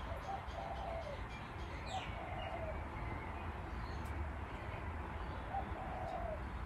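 Birds call softly in the distance, with low cooing and occasional faint chirps over a steady outdoor hiss.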